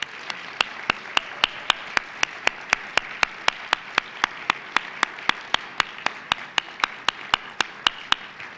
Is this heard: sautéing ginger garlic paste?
no